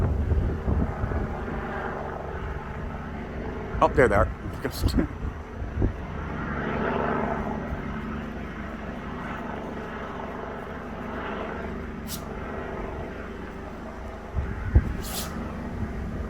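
A Hawaii National Guard helicopter circles over Leilani Estates, its rotor drone a steady, fairly distant hum rising and fading over time, while a person speaks briefly nearby.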